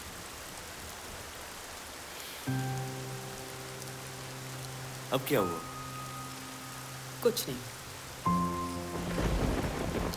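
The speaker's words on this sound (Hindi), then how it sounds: "बारिश तो रुकने दो।" Heavy rain hisses steadily throughout, with a couple of sharp thunder cracks in the middle and tonal background sounds; people exchange a few brief words over it.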